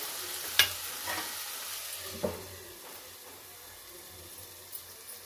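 Ridge gourd curry cooks in a pan with a soft, low sizzle, broken by a few sharp clinks and scrapes as it is stirred.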